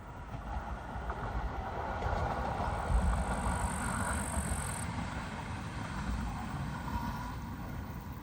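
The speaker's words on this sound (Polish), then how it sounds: "Tu się kolejki mijają" Steady low rumble of funicular cars rolling past each other, a continuous mechanical drone with a faint high whine, no voices.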